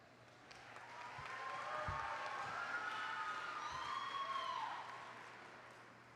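Audience applause at a graduation ceremony after diplomas are released and certified, a steady moderate wash of clapping that swells and fades over several seconds, with whistle-like tones drifting above it.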